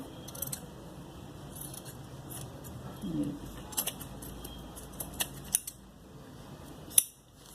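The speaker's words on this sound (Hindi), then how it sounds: "अब यहाँ पे हमें एक कट लगाना पड़ेगा, एक यहाँ लगाएंगे और ये जो एक्स्ट्रा है इसको हम काट देंगे।" Scissors snip extra fabric off a sewn bell sleeve, producing scattered faint crisp clicks and snips over a low background hum, with no voices.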